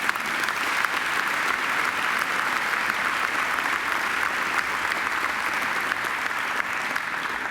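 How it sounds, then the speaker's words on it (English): A graduation audience gives singer Angela a steady, sustained round of applause, dense and even from start to finish with no talk over it. "I think Angela deserves another great round of applause."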